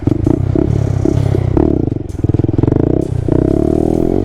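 A Honda Grom stunt motorcycle pulls a wheelie, its small engine revving loud and close with harmonic engine tones rising and falling across the run, along with some clatter and scraping.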